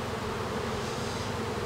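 Honey bees buzz in a dense, steady drone at an open hive colony, close and continuous throughout with no voices.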